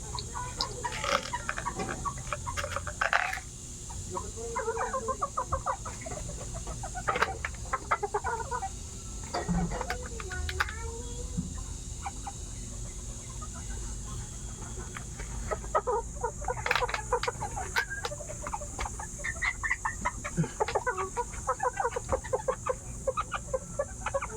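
Laying hens cluck repeatedly at close range, their short calls coming in irregular bursts over a constant background hum, with some rustling and a few louder squawks.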